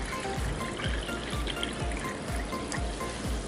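Liquid poured into a tall glass for a Kerala-style full jar soda, a steady close trickle with small bubbly splashes running throughout, no talking.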